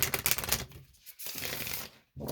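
Tarot cards being shuffled by hand in quick, crisp riffling bursts that stop for a moment and then start again, close and fairly quiet, with no one talking.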